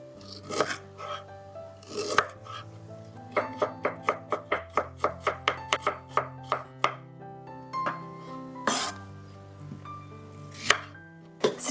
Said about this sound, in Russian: Имбирь режу полосочками.